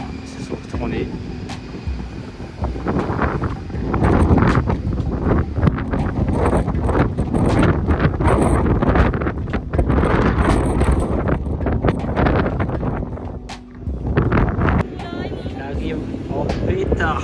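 Strong wind behind a plane blasts across the microphone in heavy, gusting rumbles that rise and ease, loud and continuous, with people talking underneath.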